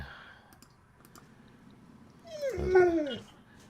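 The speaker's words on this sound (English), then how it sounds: "Oh, that's my dog." A dog in a room gives a brief rising whimper near the end, preceded by scattered light clicks like claws or keys; faint and close, with quiet room tone between.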